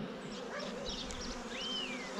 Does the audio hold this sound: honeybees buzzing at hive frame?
yes